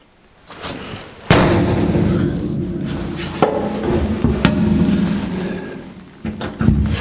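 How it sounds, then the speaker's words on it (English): Several sharp metallic hammer strikes on a center punch marking holes in the metal frame of a 1949 Chevrolet gasser, spaced a second or more apart, ring out over a steady low rumble. "We'll get the seat out of the way and center punch our holes."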